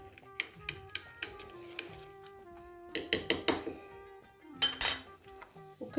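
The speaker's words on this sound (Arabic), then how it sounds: "صافي كنخلطوا هادشي مزيان." Chicken marinade is stirred in a bowl, with a spoon clinking and tapping against the dish in scattered bursts and short scraping flurries, close and fairly quiet.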